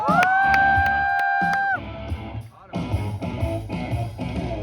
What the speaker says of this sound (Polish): wielkie brawa dla tego zawodnika!